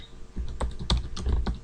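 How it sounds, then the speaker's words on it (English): Keys clatter on a computer keyboard as a web address is typed into a browser, a short run of close, irregular clicks with no voices. "So the first thing you need to do is go ahead and type that into your browser"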